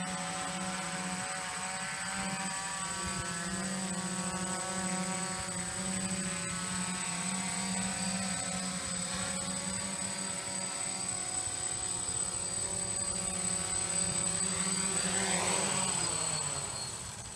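An X-Quad X450 quadcopter lands itself by GPS failsafe, its motors a steady, close buzzing whir that holds for most of the stretch and then drops away as the motors are cut.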